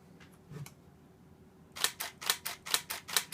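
Nikon D750 DSLR in quiet shutter mode: a couple of soft early clicks, then a rapid run of about seven evenly spaced, muted mechanical clicks, close up with nothing else heard.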